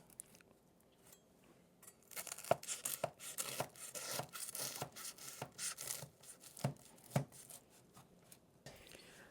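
Knife cutting into the crispy puff pastry crust of a steak and kidney pie made from a 1915 recipe, giving a series of close, crackly crunches and snaps, with quiet talk in between.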